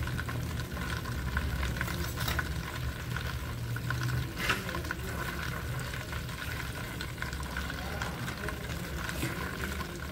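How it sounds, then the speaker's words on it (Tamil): Butter melting slowly in a pan over low heat while making ghee, giving a steady soft sizzle and faint bubbling with a few light stirring scrapes, fairly close and continuous. "இப்போ ரெண்டும் சேர்ந்து உருகி வரும்"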